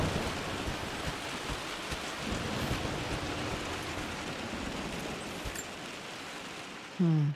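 Steady rain falls outside in Rise of the Tomb Raider, a continuous dense hiss with scattered patter that holds throughout before a brief louder tonal sound at the very end.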